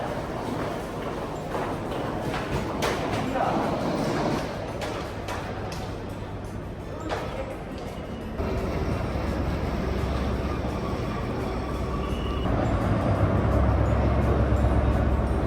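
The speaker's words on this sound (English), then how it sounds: "So this is my train, the 1403 ScotRail service from Aberdeen to Edinburgh Waverley. It's a class 43 HST." A ScotRail Class 43 HST diesel train at Aberdeen station gives off a steady, broad engine rumble that shifts in pitch and grows louder toward the end, with no talk.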